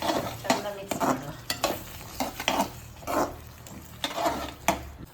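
Soya bean Manchurian with capsicum being stirred in a pan, a spatula scraping and sizzling in repeated strokes roughly every half second, close and moderately loud with no talking.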